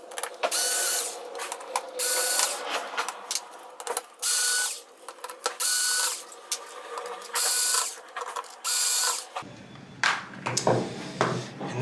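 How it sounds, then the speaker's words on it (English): A power screwdriver backs screws out of a VIZIO M60-C3 television's panel, giving loud, close bursts of whirring and ratcheting in repeated runs with short gaps between them. "Let's get these screws out."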